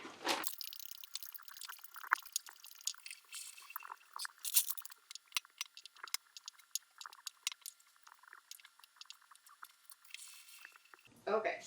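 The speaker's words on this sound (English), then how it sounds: "I'll just do the same thing until I have all my cranberries in the large pot." Cranberries dropping into a large cooking pot in small handfuls, giving an irregular series of light taps, drips and squishy patters, fairly close and quiet, with a brief louder rustle at the start and end.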